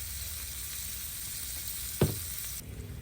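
Jalapenos sizzling on a Blackstone griddle at a camp cookout, a steady close frying hiss with a brief scrape or stir near the end, no voices.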